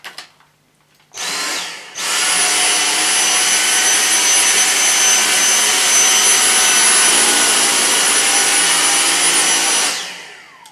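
Dyson V6 cordless vacuum cleaner on maximum power, cleaning carpet: a brief start then a loud, steady high-pitched motor whine and airflow roar holding for about eight seconds before cutting off, with no talking.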